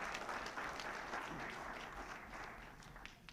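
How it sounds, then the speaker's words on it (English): An audience at a university dining culinary competition applauds, dense clapping that starts full and gradually thins and fades toward the end. "let's do a round of applause"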